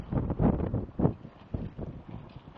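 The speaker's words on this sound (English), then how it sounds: "Southwest wind, 10 knots, gusting to 15." Gusty southwest wind of about 10 knots gusting to 15 buffets the microphone in low, rumbling bursts on a sailboat at a race start, rising and falling over a couple of seconds.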